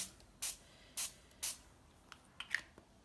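Three short bursts of ink spray hiss onto a craft tag, evenly spaced, followed by a few faint clicks and small taps close by.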